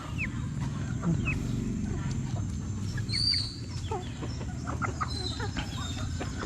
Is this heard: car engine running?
no